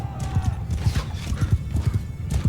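Horses clip-clop steadily at a gallop with a neigh, from the Vlandian cavalry in the medieval battle game Mount and Blade II Bannerlord, busy rhythmic hoofbeats filling the scene.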